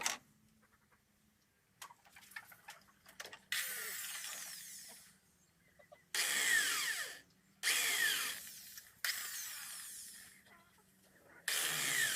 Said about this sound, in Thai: การเจาะรูไฟ